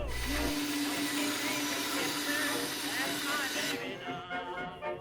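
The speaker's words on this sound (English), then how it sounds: "I'll get it as close as possible with the bandsaw" A loud, steady whine of a bandsaw cutting through wood, continuous and close, with a shifting pitch as the blade works, then winding down.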